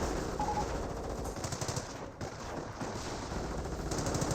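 Sustained machine-gun fire in Company of Heroes 1, a dense rattle of overlapping bursts that runs steadily throughout, with a brief dip near the middle.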